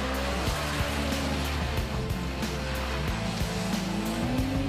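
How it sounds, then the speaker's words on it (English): A loud mid-engined Lotus Exige engine revs steadily with sports-tire squeal rising over constant noise as it spins on a wet track. "the combination of sports tires and middle motor makes for noisy pirouettes."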